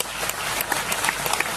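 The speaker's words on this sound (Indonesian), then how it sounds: "Sekarang saya minta teman-teman Leto tepuk tangan semuanya." Friends in a crowd clap their hands at a Mocopat Syafaat gathering, a brief dense burst of applause with a few sharper individual claps standing out, no voices heard.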